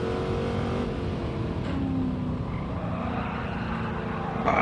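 A race car accelerating out of a corner at Monza in Gran Turismo 7, a steady engine drone with a slowly rising pitch, moderately loud and continuous, swelling at the very end; no speech.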